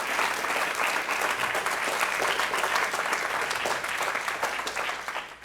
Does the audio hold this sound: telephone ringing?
no